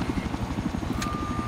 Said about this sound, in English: Engaging enemy helicopters.